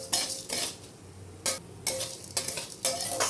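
Tamarind and cumin seeds frying in a pan, with a few bright spoon scrapes and clinks spaced apart over a faint sizzle, close by and fairly quiet.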